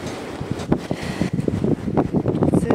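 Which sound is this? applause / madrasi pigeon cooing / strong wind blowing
strong wind blowing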